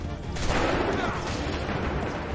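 A musket volley crashes out in the Assassin's Creed III battle at Lexington and Concord, a loud burst of overlapping shots that decays into a rumbling, crackling wash.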